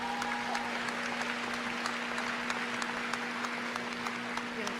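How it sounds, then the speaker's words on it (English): A crowd at a college commencement ceremony claps in steady applause, a continuous patter of many hands that holds even throughout. "Please give them a round of applause for all the parents out there."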